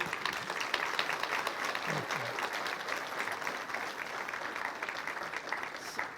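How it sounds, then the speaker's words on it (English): Audience applauding, a full, steady rush of many clapping hands that continues throughout, with brief voices and cheers faintly mixed in. "Give him a round of applause."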